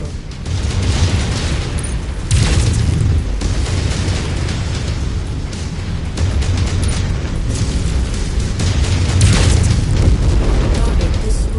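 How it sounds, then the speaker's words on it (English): Missile explosions and heavy booms in the MechWarrior 5 video game roll out as loud, sustained rumbling blasts with sharp onsets, layered over continuous battle noise. "Incoming missile."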